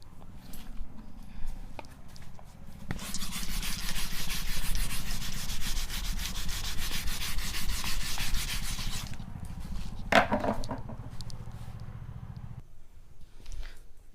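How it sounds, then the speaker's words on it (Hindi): A duster rubs chalk writing off a classroom board in steady back-and-forth scrubbing strokes, close and fairly loud, running several seconds before breaking into a few sharper wipes and taps. "मैं अभी इसको रब कर रहा हूँ"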